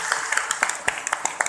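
An audience in a lecture hall claps in a steady patter of many hands, close and lively, with a voice talking over the applause.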